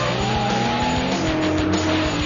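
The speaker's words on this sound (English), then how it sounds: "That roaring acceleration which just pumps the adrenaline through your blood" A Ford GT40 racing car roars under hard acceleration, its engine note climbing through steady rising harmonics, loud and close for the whole stretch with no voices.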